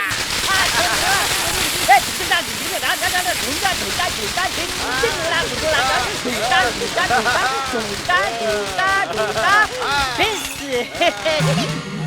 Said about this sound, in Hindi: फोड़ो रे पटाखे।